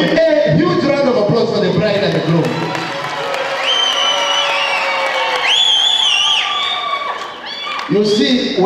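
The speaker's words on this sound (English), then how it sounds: "A huge round of applause for the bride and the groom" Wedding guests cheer, whoop and clap for the bride and groom at a reception, a loud crowd roar with excited shouts and some music underneath, dipping briefly before swelling again.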